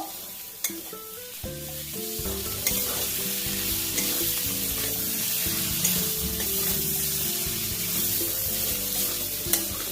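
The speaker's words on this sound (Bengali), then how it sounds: "ভেজে রাখা আলু দিয়ে আবারও খুব ভালো করে কষে নেব।" Fried potatoes and small tengra fish are sautéed and stirred in a pan, giving a steady sizzle with occasional scraping stirs, all under continuous background music.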